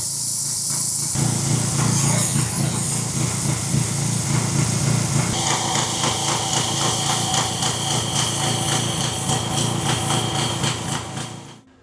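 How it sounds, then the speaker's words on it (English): A powerful pressure washer blasts paint off a boat hull, a loud continuous spraying roar with an engine drone beneath, its tone shifting brighter partway through before fading at the end. "So there's a fair amount of power in that pressure washer."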